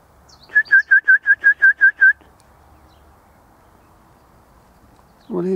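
A mistletoebird in a tree calls eight clear, evenly spaced whistled notes in a quick run. The notes are near and loud, then fall quiet, and a voice starts at the very end.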